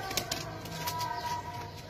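Royal pigeons with dense lace-patterned plumage cooing softly in a breeder loft, low gentle coos under faint background noise and a few quick flutters.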